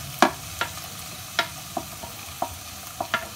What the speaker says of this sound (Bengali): এবার ডাল আমি একটুখানি হালকা ফ্রাই করে নিচ্ছি